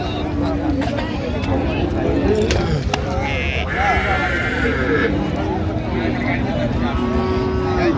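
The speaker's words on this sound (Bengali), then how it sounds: "এখানে চমৎকার একটি গাভী বাছুর একেবারে এই ক্লাসের আর গরুটি দেখছেন" Cow with her calf at a busy village cattle market, low moos sounding amid a crowd of voices talking and general market bustle.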